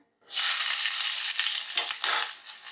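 Onion dropped into hot oil with cinnamon, cloves and cardamom for Muslim-style pulao, bursting into a loud, close sizzle that begins abruptly and continues with stirring scrapes, with no talk.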